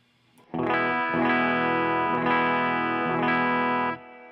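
Electric guitar on the bridge pickup played through a Ruthie fuzz and dynamic preamp pedal: four loud, sustained, distorted strummed chords ringing close, alone without talk, fading out at the end.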